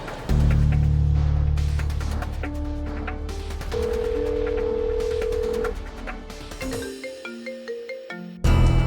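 A telephone rings with electronic tones over a dense, loud musical drama score, the tones shifting in pitch and pulsing toward the end.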